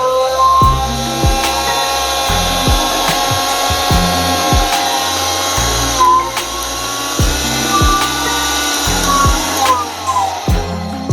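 A mixer grinder motor runs loud and steady after a bowl repair, with a bright whine and repeated brief surges and dips in pitch as it is switched and loaded, with no talk over it.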